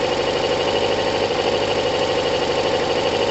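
A Kawasaki ZL600 motorcycle engine idles cold in a steady, loud, close rumble with a fast, even pulsing throb and no pauses or voices.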